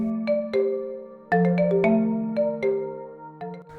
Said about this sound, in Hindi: रात को 2:30 बजे शशिकांत के मोबाइल की घंटी बजी